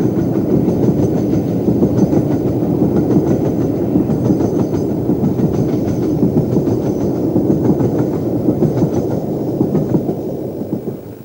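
LMS Jubilee steam locomotive Bahamas, with its large double exhaust chimney, hauls a train on the Settle and Carlisle line, a loud, steady rumbling roar with rhythmic beats and rail clatter that holds throughout before easing slightly at the end.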